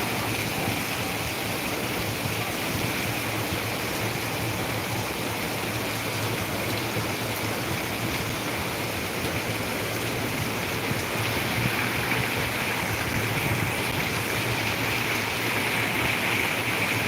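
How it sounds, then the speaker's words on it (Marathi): Heavy monsoon rain pours down in Ahilyanagar, a dense, unbroken hiss of falling water near and steady for the whole stretch, with no voices. "बघा पाऊस"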